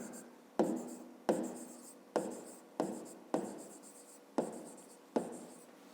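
Pen writing on paper during a math exercise, close and quiet, in about eight short scratchy strokes at a regular pace with brief gaps between them.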